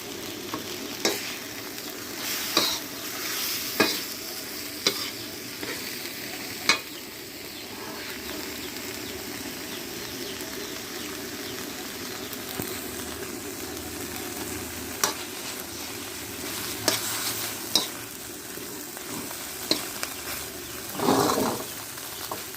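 Curry paste stir-fried in a pot for a Thai coconut curry sauce: a steady sizzle of frying runs throughout, punctuated by sharp, irregular clinks and scrapes of a utensil stirring against the pot, with no voices.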